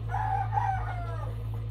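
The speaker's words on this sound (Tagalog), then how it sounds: "Yan yung tandang manok natin" An old rooster crows once, a drawn-out, wavering call rising and then trailing off, heard fairly close over a steady low background hum.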